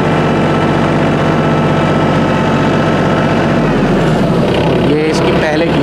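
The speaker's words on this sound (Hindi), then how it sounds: "ये दूसरे गियर में चल रहा है" Mahindra OJA 2127 compact tractor engine running steadily in second gear, a loud close-up diesel drone with a constant low hum, shifting slightly near the end as the load changes; a voice speaks over the engine.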